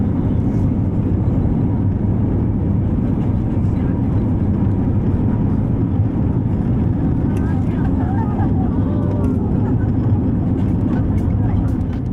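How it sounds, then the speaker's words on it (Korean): A Sun PhuQuoc Airways Airbus A321neo on its takeoff roll, heard from the cabin as a loud, steady low engine roar and rumble that continues throughout, with faint voices underneath. "이륙 준비 방송이 나오고 매끄럽게 이륙합니다."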